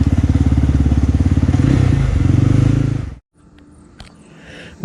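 A Jawa 42 BS6 motorcycle idles up close with a fast, even, thumping exhaust beat for about three seconds, then the engine cuts off abruptly, leaving faint background sounds.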